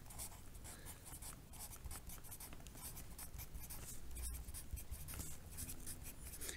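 Pencil or pen writing math on paper during a sixth-grade lesson, a steady scratchy scribbling that runs throughout with soft strokes and taps, fairly close, with no talk over it.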